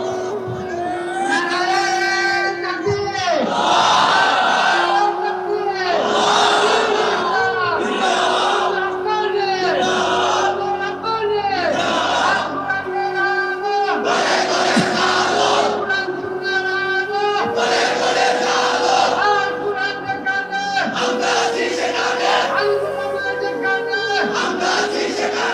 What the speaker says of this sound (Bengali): তোমরাই স্লোগান দাও, তোমরাই তাকবীর বলো